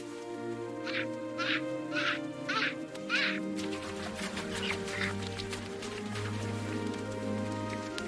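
Cartoon duck in a children's story quacking in a run of five evenly spaced calls, followed by softer, rapid quacks over a steady rain-like wash and a low background hum.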